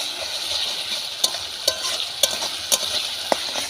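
Hand-ground spice paste fried and stirred for tilapia curry in a pan over a wood fire, a steady sizzle broken by sharp scraping clicks of a spoon against the pan every half second or so.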